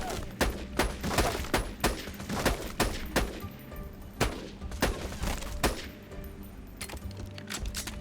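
Gunfire in the shooter game Borderlands 2, rapid sharp shots in an uneven rhythm that keep going throughout, loud and close.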